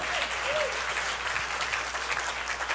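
A church congregation claps, steady dense applause from many hands filling the whole stretch, with a faint voice rising briefly under it.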